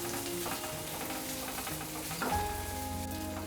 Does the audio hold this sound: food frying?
yes